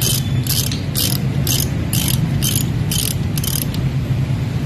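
Rapid metallic ratchet clicking from a wrench tightening bolts during a Toyota Revo 2L engine overhaul comes in eight short repeated bursts at a steady rhythm over a constant low workshop hum.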